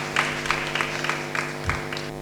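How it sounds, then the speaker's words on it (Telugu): Church congregation clapping in praise during a Lord's Supper worship service, a series of rhythmic claps at steady pace, moderately distant over a faint background hum, with no talking. "చప్పట్లు కొట్టి ప్రభువుని స్తుతిద్దాం"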